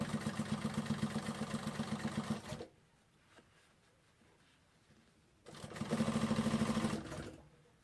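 A sewing machine stitches a drop-shoulder shirt seam in two bursts of fast, even mechanical clatter, separated by a quiet pause of a few seconds.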